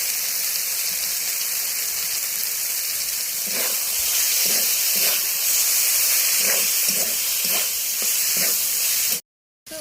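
Boiled drumstick flowers frying in a pan with turmeric, chilli and cumin powder, a steady soft sizzle and hiss with occasional scraping stirs, then a brief cut near the end.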